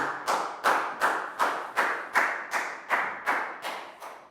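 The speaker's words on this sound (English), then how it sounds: "High five, big round of applause for Pak Boom." A classroom of young pupils claps in unison for a classmate, about a dozen sharp, even claps at a steady beat, close and alone with no talk over them.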